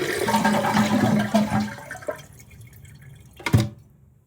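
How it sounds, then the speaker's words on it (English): A Kohler toilet flushes to drain its tank during a flush valve repair, a loud rushing of water that gradually subsides into gurgling, with a sharp clunk near the end. "And then flush it, roll down, try to get as much water out as you can."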